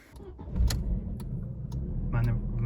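Audi A4 B5 engine being cranked and started after new ignition cables and spark plugs are fitted, with a low rumbling engine that catches and keeps running close by, plus a few clicks and a jingle of keys.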